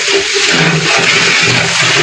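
Water pours steadily over tomatoes, a continuous rushing splash that stays loud and even throughout with no voices.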